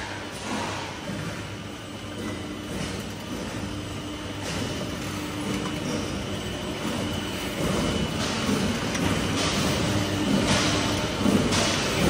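A C-shape purlin roll forming line runs with 22 rolling stations, a gearbox drive, flying cutter and stacker, giving a steady loud mechanical drone with faint periodic clanks throughout.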